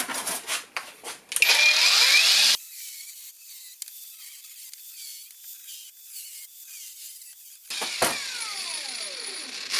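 Exhaust pipe being cut gives a short, harsh, high-pitched burst of cutting noise. Quieter mechanical clatter follows, then a motor winds down near the end.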